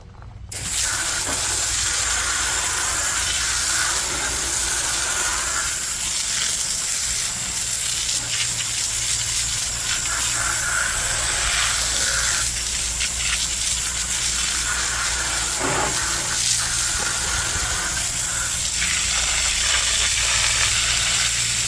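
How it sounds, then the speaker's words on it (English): A strong water spray hisses steadily while rinsing a scrubbed wheel rim and tire, a loud, continuous close-up rush of water with slight fluctuations throughout. "Now you just rinse off the rim and tire."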